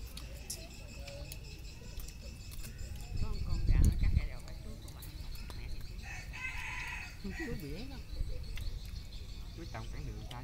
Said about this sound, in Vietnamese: Con gà đó bà.